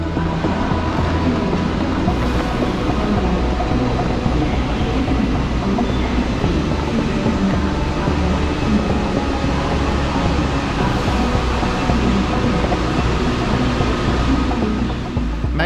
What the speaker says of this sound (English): ICE3M made by the German industrial giant Siemens in collaboration with Bombardier